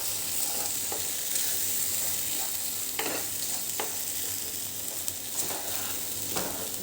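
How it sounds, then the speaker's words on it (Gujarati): A ground paste of cashews, melon seeds and poppy seeds roasting in oil in a pan for a kaju masala gravy, giving a soft, even sizzle with occasional stirring scrapes and light clicks. "હવે આ બધું એક વખત મિક્સ કરી લઈશું અને 2 થી 3 મિનિટ સુધી એને આપણે શેકાવા દઈશું"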